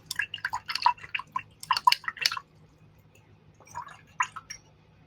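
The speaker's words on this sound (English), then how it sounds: "I'm going to wash my brush" Acrylic paintbrush swished and tapped in a water jar after painting a turkey: quick close dripping and sloshing bursts in two clusters with a pause between, no talk.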